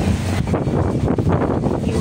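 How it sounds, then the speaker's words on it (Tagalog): Strong typhoon wind with heavy rain, a loud, continuous roaring rush buffeting the microphone close by, steady throughout with no talk. "Lakas na yung ulan, hangin sa likod namin to."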